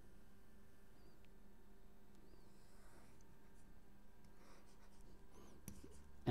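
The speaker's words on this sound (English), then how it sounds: "I'm just going to draw the same parabola" A marker squeaks and scratches faintly across a board while a parabola is drawn, with a few short strokes over a quiet room hum and no voice.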